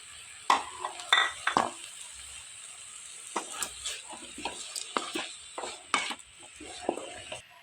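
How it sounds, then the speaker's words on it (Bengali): A spoon scrapes and stirs coconut filling with cardamom powder in a pan for dudh puli pitha, making irregular clinks and scrapes over a soft sizzle, close by. "আমি এটা দুধ পুলির জন্য নারকেলের পুর বানাচ্ছি"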